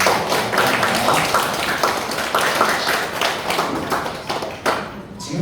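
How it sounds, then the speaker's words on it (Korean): An audience at a church summer Bible school teacher training session gives sustained applause, a dense burst of clapping that carries on steadily and thins out near the end. "한번 더 큰 박수 주시기 바랍니다."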